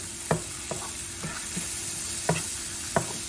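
Mushrooms sautéing in a pan for an omelette, a soft steady sizzle with occasional stirring clicks and scrapes spaced irregularly, close and fairly quiet, no voices.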